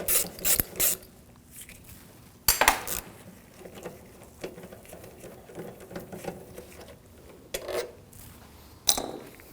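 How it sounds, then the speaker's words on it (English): Bolts come out of a 2007-2013 BMW 328i 3.0L inline-six engine bay with a 10mm socket wrench, giving close, sharp metallic clicks and clanks in a few separate bursts with quieter ratcheting scrapes between. "Take these two bolts out, use a 10mm socket."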